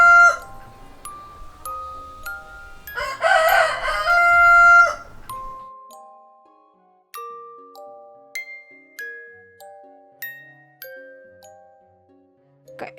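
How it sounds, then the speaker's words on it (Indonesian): A rooster crows once at morning, loud and near, and a light chiming melody of single notes follows. "hingga pagi hari waktu ayam jago berkokok"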